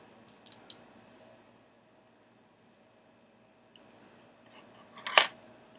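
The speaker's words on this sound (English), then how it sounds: "So I'm going to cut this in half." Scissors snip a Jamberry nail wrap in half, giving a few faint clicks early on and then one sharp, louder cut near the end, close to the mic in an otherwise quiet room.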